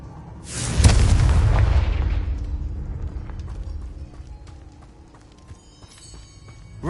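A Confringo fire spell blast in the Hogwarts Legacy video game bursts out as a loud, booming explosion, its rumbling roar slowly fading away over several seconds with small crackling debris sounds afterward.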